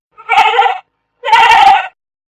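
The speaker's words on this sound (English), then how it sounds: "Where is the sheep? Keep it up. Sheep." Two loud, close sheep bleats, each about half a second long, separated by a short pause, with no other sound around them.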